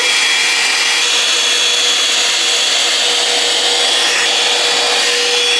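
An electric hot-air hair brush runs at maximum power, giving a loud, steady blowing whir with a constant motor whine throughout and no speech.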